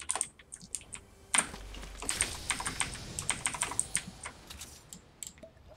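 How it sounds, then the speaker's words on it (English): Typing on a clicky mechanical keyboard, a close, irregular run of sharp key clicks with a few louder bursts, alone without speech. "It's a mechanical keyboard, so it has like a tactile feel to it."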